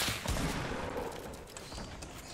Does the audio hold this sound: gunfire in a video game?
yes